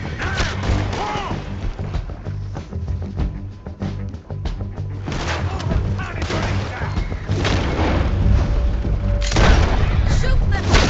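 Gunfire in Red Dead Redemption 2 during a roadside robbery scene, heavy booming shots and crashes piling up over dense game noise while characters shout.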